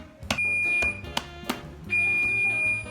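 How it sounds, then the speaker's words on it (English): A kitchen timer beeps with a steady high electronic tone while pizza dough is being kneaded, sounding in two long stretches broken by sharp clicks and knocks, close by and fairly loud, with no talk. "So now my time is up, so I'm just going to turn off the timer."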